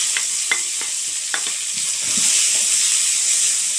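Onion frying in hot oil in a pan: a loud, steady sizzling hiss fills the whole stretch, with a few soft clinks of stirring near the start and the sizzle swelling slightly toward the end.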